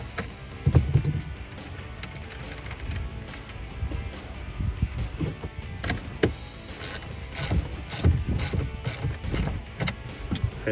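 A wrench ratcheting tight on the negative battery terminal of a Hemi Dodge Charger, with close, irregular clicking bursts and short metallic snaps, growing busier toward the end, with no voice.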